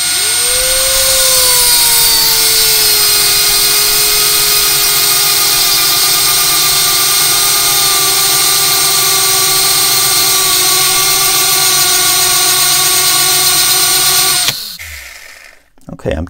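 A drill runs continuously, cutting a notch into a gun lock for a ball bearing locking mechanism, holding a steady loud whine for about fourteen seconds before it stops abruptly.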